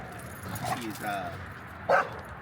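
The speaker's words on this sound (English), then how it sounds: "He's barking. That's just him barking." A dog gives a few short, playful barks and yips toward a new puppy, one sharper bark near the end, over a quiet room background.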